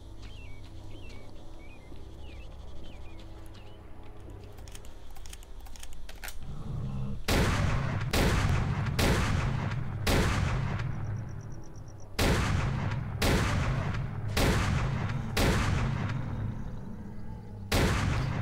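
Rapid gunfire with armor-piercing rounds in S.T.A.L.K.E.R.: Clear Sky in Dark Valley, a string of loud close shots in irregular rhythm following quieter ambient sound and light clicking.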